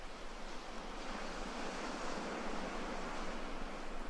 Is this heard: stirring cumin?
no